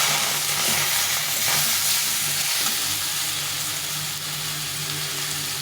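Ground spice paste sautéing in a pan for a fish curry with bitter gourd and drumstick, a steady close sizzle with soft stirring scrapes running throughout at even loudness.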